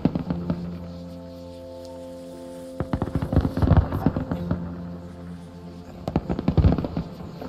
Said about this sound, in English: Oh, there's fireworks going off.